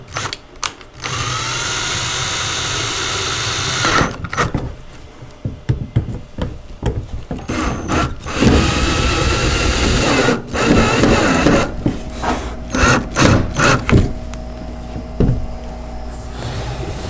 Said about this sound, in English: So I'm going to screw the top one and the bottom one here.